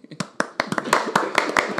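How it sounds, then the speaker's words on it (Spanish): A few people clap in a quick, uneven rhythm during a Spanish-language comedy talk show, the sharp hand claps close and distinct with voices mixed in. "¡Aplauso!"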